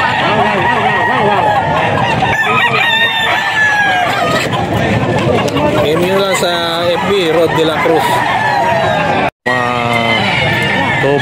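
Gamecock roosters and stag chickens at a seller's place crowing repeatedly and clucking, loud and close, overlapping with someone talking throughout.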